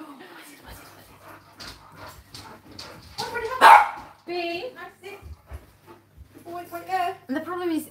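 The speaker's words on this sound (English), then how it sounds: "I let the dog bark" A dog barks in a grooming shop with very high ceilings, one sharp, loud bark standing out midway while people talk around it throughout.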